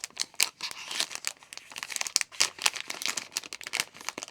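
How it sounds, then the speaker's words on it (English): A paper envelope package is torn open and crumpled by hand, a close, busy run of ripping and crinkling bursts with short pauses between them. "It's also in an envelope, which I totally destroyed."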